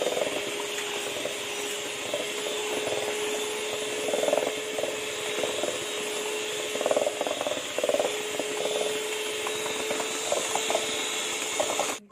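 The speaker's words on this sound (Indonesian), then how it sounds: "Ini saya akan mixer ya." An electric mixer kneads potato donut dough, giving a steady, close motor whine with a constant hum and a rhythmic knocking churn throughout, with no talking.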